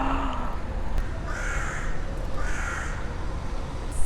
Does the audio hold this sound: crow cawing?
yes